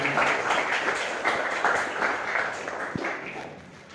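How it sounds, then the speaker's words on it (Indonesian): Classmates clap for a fellow student in a school classroom during a lesson on ecosystems, a steady spread of hand claps at moderate distance, fading toward the end. "berikan tepuk tangan atau aplaus buat teman kalian"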